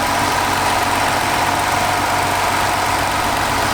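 A Nissan GTR R35 engine idling, a dense, steady mechanical hum and whir with a low rumble underneath, constant and close with no one speaking.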